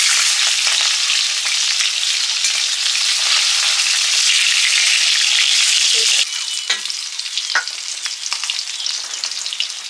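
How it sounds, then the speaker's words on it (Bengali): Falui fish pieces fry in hot oil in a pan, producing a loud, close, continuous sizzle that eases later, with scattered spatter pops and stirring scrapes. "ফলি মাছ ভাজা হয়ে গেছে"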